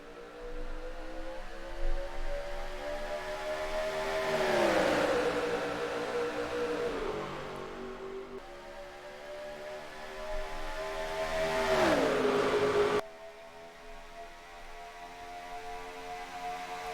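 Stock cars roar around Charlotte in a racing video game, a dense pack of engines droning steadily with pitch sweeps as cars pass, loud and continuous, cutting abruptly to a quieter engine hum near the end.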